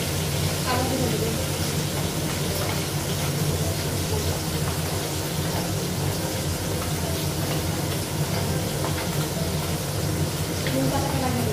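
Neem leaves frying with a little oil and ginger in a wok produce a loud, continuous hiss that stays steady and close throughout.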